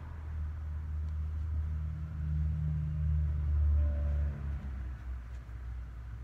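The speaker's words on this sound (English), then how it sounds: "if you hear like car noise in the back, because I live in the city" City car traffic rumbles low in the background, a passing vehicle swelling and fading in the middle, faint and distant.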